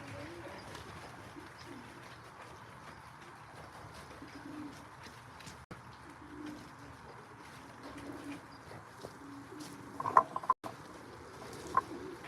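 Racing pigeons coo softly outside their loft in intermittent low murmurs, with occasional mechanical clicks and a few sharper clanks near the end.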